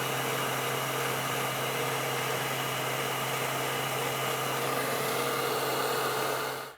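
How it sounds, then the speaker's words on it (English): A heat gun blows steadily to shrink heat-shrink tubing over wiring while installing power running boards on a 2018 Ford F-150 Raptor, a constant loud airy roar that cuts off at the end. "we can go ahead and take a heat gun and shrink all that down"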